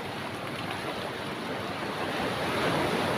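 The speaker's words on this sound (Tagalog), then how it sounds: "napakalaki ng alon" Large sea waves surge and crash steadily along the shore at Dingalan, a continuous broad roar of surf mixed with wind buffeting the microphone, loud and close throughout.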